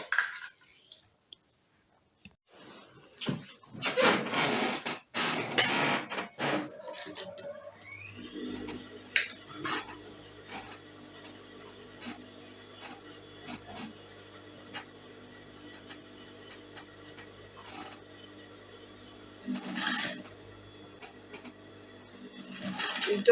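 Sewing machine stitching a zipper onto soft, stretchy fabric, a steady close mechanical whir with a faint rhythmic ticking that runs for most of the stretch after some handling noise at the start, pausing briefly near the end.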